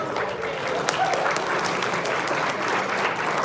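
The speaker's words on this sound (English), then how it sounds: "Let's give him a round of applause." Dense, even applause from a student athlete advisory gathering, a continuous wash of many hands clapping at steady loudness throughout with faint voices mixed in.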